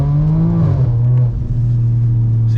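A BMW E92 335i with the N54 engine accelerates hard with traction control on, its engine note loud and close, a steady droning pull that dips slightly mid-run and then carries on strongly.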